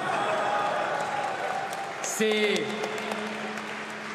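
A crowd at a candidate's first presidential campaign rally applauds in a continuous, fairly distant wash, while someone speaks briefly over it and some tonal sounds ring out midway.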